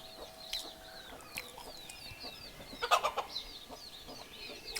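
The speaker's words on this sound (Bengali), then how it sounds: "কত মুরগি দেখো।" Many farmyard chickens clucking on a cool morning after overnight rain: quiet, scattered clucks and short calls from several birds, with a brief busier burst partway through and no speech.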